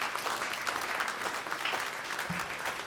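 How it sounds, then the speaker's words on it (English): Audience applause for student composers at an evening concert, a steady wash of many hands clapping from start to finish at moderate loudness, with no voices standing out. "Get one more round of applause for Richard and all of our student composers if you're here tonight."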